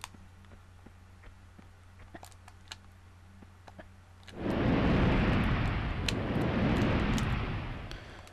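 A dragon breathes fire in the Tomb Raider II game: after several seconds of near silence with faint ticks, a loud, broad roaring blast erupts and sustains to the end.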